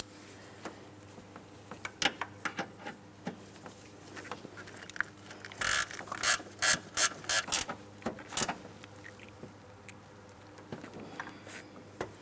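Wrench snugging up the transmission mount bolts on a 2008-2016 Chrysler Town & Country 3.8L V6, heard as a series of sharp metallic clicks and ratcheting taps, sparse at first and then clustering into a louder run of bursts before thinning out.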